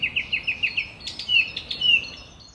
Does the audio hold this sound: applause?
no